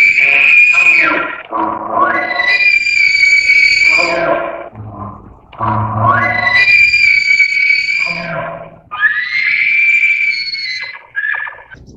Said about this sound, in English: To hear the elk bugle is truly an experience.